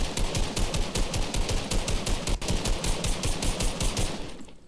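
Rapid assault rifle fire from Fortnite, a long unbroken automatic burst of sharp, evenly spaced shots that stays loud and close before cutting off at the end.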